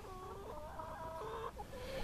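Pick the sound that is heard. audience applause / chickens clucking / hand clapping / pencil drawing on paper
chickens clucking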